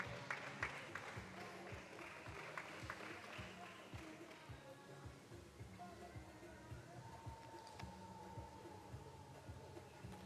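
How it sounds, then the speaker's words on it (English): At an MMA championship event, a crowd applauds a fighter during ring introductions, a moderate spread of clapping and crowd noise with a voice talking over it through the clip. "Let's give Keegan a round of applause"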